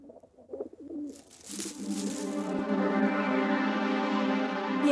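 A pigeon coos with a soft, low murmuring call that becomes steady and sustained, set against a dense, continuous background in a film scene.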